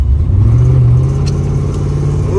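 A 1985 Chevrolet C10 engine with a 4-barrel carburetor, low compression on one cylinder and noisy valves, revs loud and close inside the truck, holding a strong steady low rumble.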